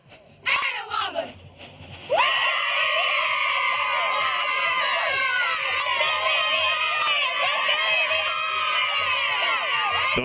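After a brief burst of shouting, the Itawamba high school girls' cheer squad launches into a loud, sustained group chant, their voices ringing together continuously and close by.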